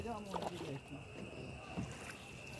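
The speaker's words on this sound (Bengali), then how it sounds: "নৌকাটা এদিক ওদিক হেলছে, এই দেখুন" A rowboat rocks on the clear Dawki river, its hull knocking and water lapping softly along the sides, while a voice speaks faintly over a steady outdoor hum.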